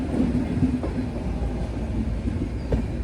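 A train rolls into Dhuri Junction railway station with a steady low rumble, faint rhythmic wheel clatter and light clanks, fairly close and continuous, with no voices.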